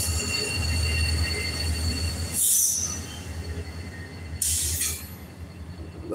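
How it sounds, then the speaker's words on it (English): A short train rumbles past nearby beneath a bridge with a steady low drone, and two sharp bursts of high wheel squeal ring out. No one speaks. "Here goes one more train."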